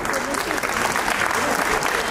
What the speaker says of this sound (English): Let's congratulate him by clapping louder.